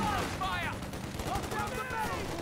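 Thompson submachine guns rattle in steady bursts of automatic fire in a Company of Heroes 2 battle, set against a dense backdrop of distant combat. Someone talks over the shooting.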